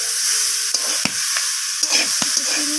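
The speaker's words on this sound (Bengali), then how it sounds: "চিনিটা দেওয়ার পর আমি আবারও এইভাবে কষিয়ে নিচ্ছি" Spinach curry being stir-fried in a pan after sugar goes in: a bright sizzle underlies several sharp clacks and scrapes of a spatula against the pan, close and fairly loud, with no voices.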